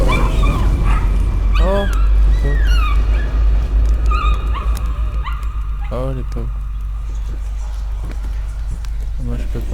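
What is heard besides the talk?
whimpering dogs in the video game Layer of Fear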